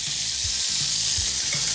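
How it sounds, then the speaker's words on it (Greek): Fish fillets sauté in a hot pan with a loud, continuous sizzle, broken by a few soft, rhythmic stirring or shifting sounds underneath. "με τον ίδιο τρόπο τώρα συνεχίζω το σοτάρισμα και με τα άλλα φιλετάκια"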